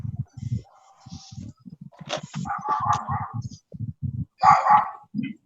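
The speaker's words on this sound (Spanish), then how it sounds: "El perro me pregunta, sí." A dog in a neighborhood barks repeatedly in short, sharp bursts near the microphone, with people talking between and over the barks.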